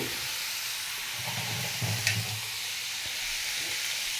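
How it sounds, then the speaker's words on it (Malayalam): Onions fry in a pan with a pinch of salt, giving off a steady, close hiss of sizzling with a few soft stirring scrapes and no voices. "ഉള്ളി നല്ലതായിട്ട് വഴരണം"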